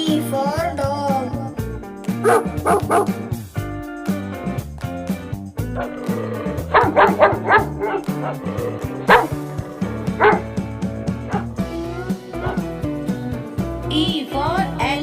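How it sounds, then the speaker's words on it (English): A dog barks and yips in short bursts within a lively children's alphabet song, the barks mixed into the steady music. "D for dog."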